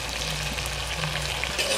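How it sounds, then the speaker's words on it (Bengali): Heated water goes into a pan of sizzling country chicken curry made with red country rooster, giving a steady, close frying hiss throughout with a soft bubbling under it. "গরম করে রাখা জল দিয়ে দিচ্ছি।"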